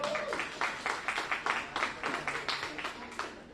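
Press club luncheon audience applauding, a burst of clapping with a rhythmic pulse that runs steadily through the moment, moderately loud in a room.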